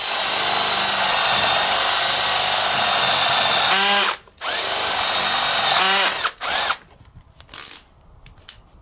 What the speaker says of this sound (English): let's take a look at what it can do with a 3/4 inch hole bit